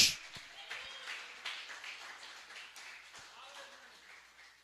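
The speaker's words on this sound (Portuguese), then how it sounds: "Então dá uma salva de palmas para Jesus nesta noite" A church congregation claps together at an evening service, dense and steady applause that starts loud and slowly fades over several seconds, with some voices mixed in.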